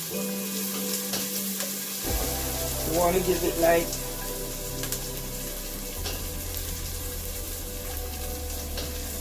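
Steady crackling sizzle of onion, garlic and ginger frying in a pan, with a brief stir and a short spoken remark over the sizzling.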